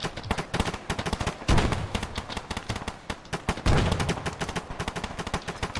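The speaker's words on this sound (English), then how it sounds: "Chucking grenades over the tent." Dense, close bursts of automatic rifle fire crackle through a military video game battle, with heavier thumps of grenade blasts at intervals, continuous and loud throughout.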